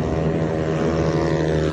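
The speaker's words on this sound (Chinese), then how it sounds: "大力猛催油门，2辆机车立刻启动，直线加速，不停往前狂飙" Street-racing motorcycles on a closed road beneath the Xinfeng West Coast Expressway in Hsinchu in the early hours, with their engines holding a loud, steady, droning roar close by and no talk over it.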